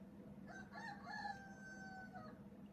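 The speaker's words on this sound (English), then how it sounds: "That was a rooster." A rooster crows once, a faint, drawn-out cock-a-doodle-doo from some distance over a steady low background hum.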